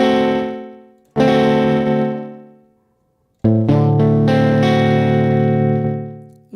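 Electric guitar played through an amp simulator with a lightly driven, slightly transparent tone: two sustained strummed chords ringing out and decaying, then a quick picked run into another held chord, loud and close with no talking.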